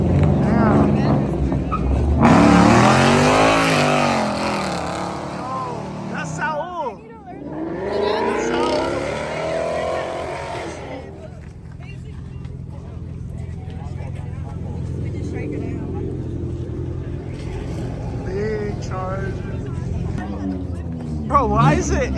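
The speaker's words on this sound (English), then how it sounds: "why is it every time I pick up the vlog, they always doing burnouts" At a car meet, a car doing burnouts sends out surges of loud engine revving with rising and falling pitch, followed by a lower rumble, with people talking over it.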